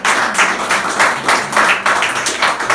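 A church congregation clapping together in a steady rhythmic beat, many hands loud and close and continuing throughout.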